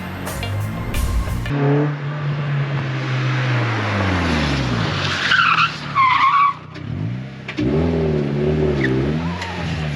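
Mazda Miata driving hard on canyon roads, engine revving and falling through gears with loud tire squeals rising and fading, heard from close by inside the car.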